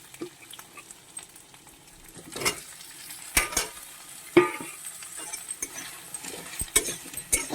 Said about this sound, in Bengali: এগুলো একটু ভেজে নেবো ঝিঙেগুলো কচুর সাথে